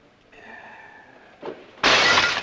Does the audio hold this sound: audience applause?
no